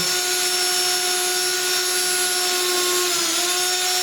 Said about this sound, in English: we're just offsetting, so we're drilling